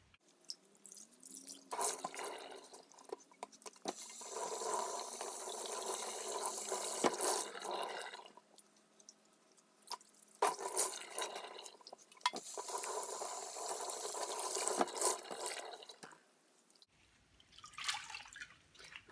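Water dripping and trickling from wrung-out, mordant-treated yarn as it hangs to drain and dry during natural dyeing, steady wet patter in bursts with brief pauses, no talk.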